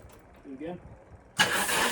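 A Dodge Omni with a weak battery turns over and catches, a brief quiet lead-in with a voice before the engine suddenly bursts into a loud, steady running roar close by.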